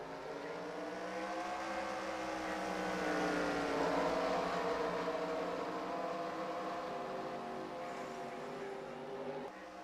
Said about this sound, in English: The drivers, start your engines.